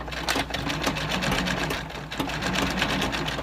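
A sewing machine stitches a tight fabric casing on a homemade seed storage bag, running steadily and close with quick rapid needle strokes and a brief pause near the two-second mark.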